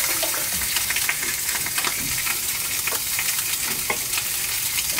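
Skin-on mullet fillets seasoned with paprika and cayenne fry in hot oil, a dense steady crackling sizzle close by with small spattering pops throughout.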